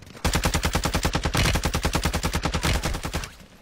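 Sustained automatic gunfire in a multiplayer shooter video game, a fast, loud, even stream of shots that starts abruptly and runs for over three seconds before tapering off.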